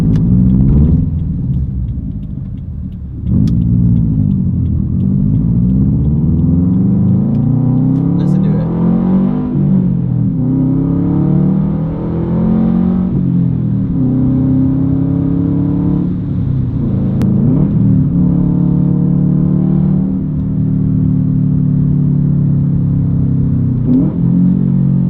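Stock Subaru WRX STi with its EJ engine and the cat-back exhaust removed, revving loud and close in repeated rising and falling sweeps, a deep throaty drone that dips between pulls.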